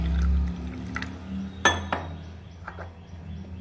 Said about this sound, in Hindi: हाफ कप पानी ले लेती हूँ।